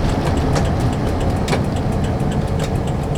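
Engine of a VW bus droning steadily while riding, a continuous low rumble with road and wind noise throughout and no voices.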